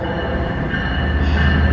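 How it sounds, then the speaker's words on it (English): A short train of only three cars rolls slowly into a station on the railroad, its wheels squealing in a steady high whine over a loud, continuous rumble close by. "So, there's that train coming in."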